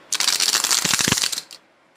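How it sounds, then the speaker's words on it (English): Tarot cards shuffled by hand in a short riffling burst of crisp papery flutters lasting about a second, followed by a couple of faint soft taps. "Y'all always have a random card that fly out right when I'm shuffling."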